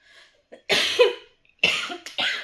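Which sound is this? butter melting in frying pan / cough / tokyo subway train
cough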